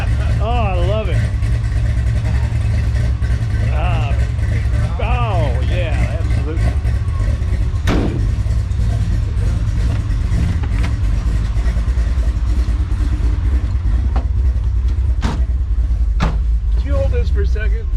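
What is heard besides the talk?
1966 Chevrolet Chevelle engine idling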